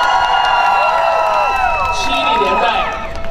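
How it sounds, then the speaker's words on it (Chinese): A crowd cheers and whoops together in a loud, sustained burst at an event honouring a name, with high shouted voices overlapping close by throughout. "我们为这个荣耀的名字给高度的欢呼。"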